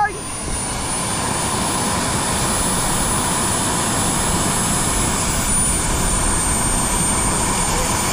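A Delta 40 model jet plane comes in to land, its engine producing a loud, continuous whooshing whine with a thin high tone that stays steady throughout.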